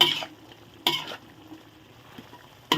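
Crispy fried catfish being stir-fried in a pan with curry paste and eggplant, spatula scrapes and clanks in a few distinct bursts over a low sizzle, close and fairly loud.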